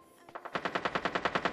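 A rapid burst of automatic gunfire, about a dozen evenly spaced shots in quick succession, growing slightly louder, in the video game Ring of Elysium.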